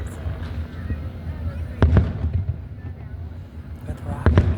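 Fireworks bursting at a July 4th display in Athens, Tennessee, with a few sharp booms standing out over a continuous crackling, rumbling background as spectators talk nearby.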